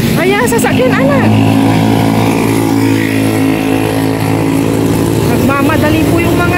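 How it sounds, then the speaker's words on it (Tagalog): Vehicles speeding past on a road, a continuous loud engine roar with rising and falling pass-by sweeps, heard up close while someone talks over it. "Nagmamadali po yung mga sasakyan."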